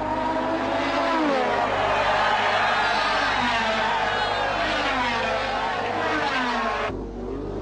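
Formula 1 race cars at the 1986 Brazilian Grand Prix, with a loud, continuous high-pitched engine whine rising and falling through gear changes over a crowd rumble, cutting off abruptly near the end.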